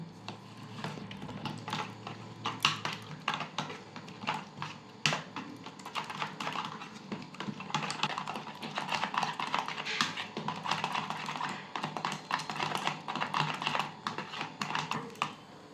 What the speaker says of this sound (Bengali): ডিমটা আমি ভালো করে ফেটে নেব।